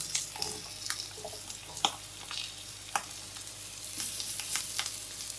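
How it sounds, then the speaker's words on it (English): Mushrooms sauté in olive oil in a hot pan with a steady, close sizzle and crackle, broken by a few sharp pops and clicks of stirring. "I'm going to add a little bit more olive oil to the pan, and I'm going to saute my mushrooms."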